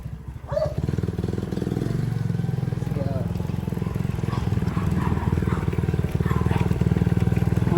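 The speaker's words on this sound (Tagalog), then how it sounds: "Papasigatin natin yung motor." A motorcycle engine cranks and catches, then settles into a steady close idle with rapid putter, while someone talks over it.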